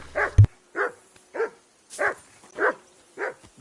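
A dog in Kingdom Come: Deliverance II gives about seven sharp, evenly paced barks that stand out clearly against near silence, with a brief thud near the start.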